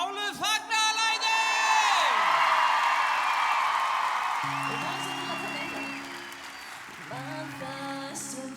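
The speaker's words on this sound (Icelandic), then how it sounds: "Brjáluð fagnaðarlæti!" Crowd at the Söngvakeppnin 2016 song contest cheering wildly, loud whoops and applause swelling over the ending of a pop song, then fading under renewed music.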